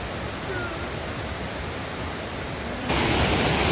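A waterfall in Kerala pours with a constant, roaring rush of splashing water, close and loud, swelling even louder near the end.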